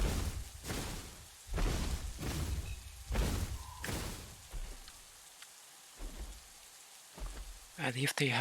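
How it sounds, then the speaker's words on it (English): Rainfall in The Isle survival game, a steady wash broken by repeated heavy bursts and low thunder-like rumbles, with a brief higher-pitched cry near the end. "Or I mean, it's raining"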